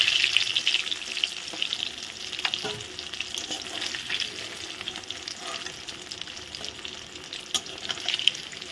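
Rohu fish pieces frying in hot oil, a steady bright sizzle that runs the whole time with occasional soft clicks and scrapes of the pan, fairly faint and with no talking.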